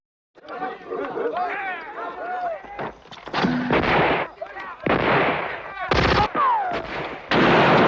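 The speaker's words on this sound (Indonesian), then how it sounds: "sehingga terjadilah saling tembak" A gunfire exchange in a film set in the Amazon jungle, with bursts of shots and heavy impacts mixed among shouting voices and chaotic film sound, loud and close throughout.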